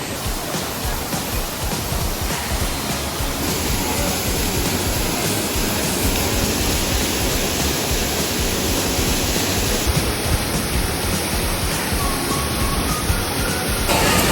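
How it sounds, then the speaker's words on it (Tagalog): Pulang Bato Falls in Valencia, Dumaguete City, a waterfall with an orange-tinted basin, pours with a steady, broadband roar that stays loud and close throughout, with no voices present. "Maliligo kami dito sa Pulang Bato Falls, Valencia, Dumaguete City."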